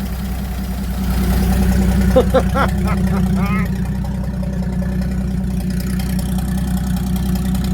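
A G60 engine idles with a low, steady rumble, joined briefly by a voice speaking over it before the engine continues alone.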